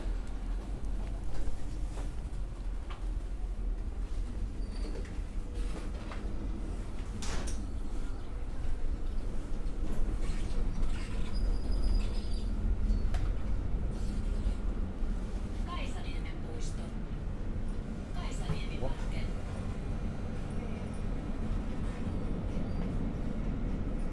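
A Helsinki tram ride in the evening, a steady low rumble with rattles and clicks of the carriage running the whole time, and people talking over it.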